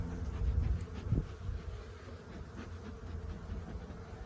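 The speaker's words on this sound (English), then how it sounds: "As you can see, there are a lot of bees." A dense, steady buzz of many honeybees at a hive close by, a low continuous hum with no voices.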